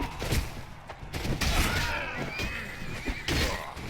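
A horse neighs loudly in the video game Mount & Blade Warband, with clopping hooves and scattered battle clatter and thumps around it.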